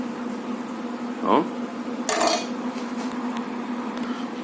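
A spoon is drawn slowly from a cup of hot mocha, giving a short metallic clink and a brighter scraping ring against the cup, close and clear over a steady background hum.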